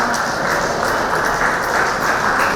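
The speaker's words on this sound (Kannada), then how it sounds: "ಜೋರಾದ ಚಪ್ಪಾಳೆಯನ್ನು ತಟ್ಟಿ" Loud, sustained applause from a crowd at a public birthday-anniversary celebration for Savitribai Phule in Doddaballapur, a dense steady roar of clapping with no pauses.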